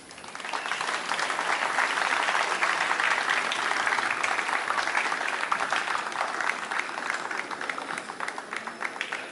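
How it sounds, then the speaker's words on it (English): A large audience at the opening ceremony of the Zimbabwe Senior National Championships at a city pool applauds the guest of honor, with sustained, dense clapping that holds steady and eases slightly toward the end. "A warm round of applause, a warm Zimbabwe welcome to our guest of honor today"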